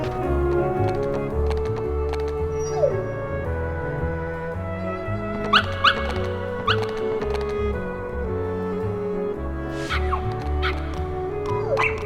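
Dalmatian puppies barking in the video game Kingdom Hearts, a few short, sharp yips scattered over steady background music, faint to moderate and spaced irregularly.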